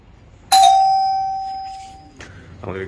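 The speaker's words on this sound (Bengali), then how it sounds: "আমাদের এই কলিং বেল শুনে অনেকেই ভয় পান" A doorbell at a home gives one loud, ringing tone that rings on and slowly fades over about a second and a half, followed by a faint bit of background noise.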